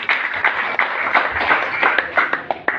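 A church congregation claps for Jesus in a run of irregular, sharp hand claps. The applause is close and steady, and faint voices can be heard beneath it.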